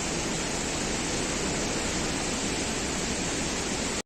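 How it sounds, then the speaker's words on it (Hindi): Fast, high-velocity river water rushing past a freshly rebuilt section of stone, soil and gravel fill: a loud, steady broadband roar with no breaks, heard alone and close. "पानी का वेग ज़्यादा, रफ्तार ज़्यादा है"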